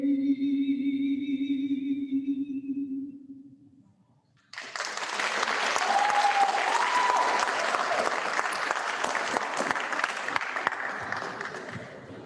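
An audience at a graduation ceremony breaks into loud, sustained applause that rises suddenly partway through and keeps going steadily to the end, after a stretch of sustained tones that fades out before it.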